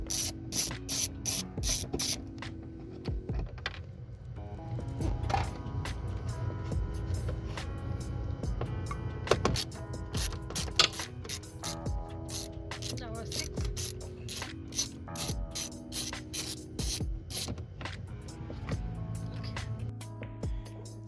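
Screws come out of a BMW 5 Series M Sport front bumper, with a ratcheting tool giving repeated bursts of quick clicking and whirring alongside rattles and clinks, fairly faint and close, in intermittent bursts.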